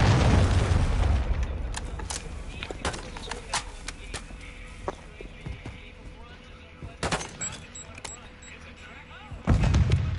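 A cruise missile strike in a first-person shooter brings a heavy boom at the start, then scattered gunfire cracks and thuds at mid-distance, with a second loud explosion near the end.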